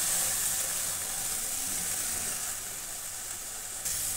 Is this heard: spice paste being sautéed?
yes